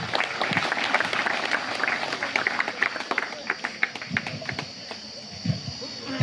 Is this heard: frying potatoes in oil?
no